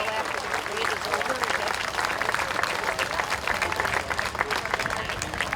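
Crowd applause for a World War II veteran at a small-town pioneer village parade outdoors, dense continuous clapping from many people close by, with voices mixed in.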